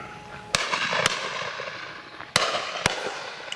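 Shotgun shots ring out at a pheasant shoot, four sharp, loud reports spaced unevenly over a few seconds, echoing outdoors over a steady background hiss.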